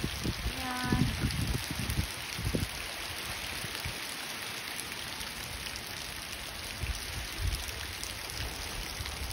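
Steady, dense rain pours down, hissing evenly throughout, with a few brief voices and knocks near the start.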